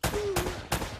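Three loud gunshots in the Uncharted video game, evenly spaced about a third of a second apart, each a sharp broadband burst with a ringing tail, set against a steady game backdrop.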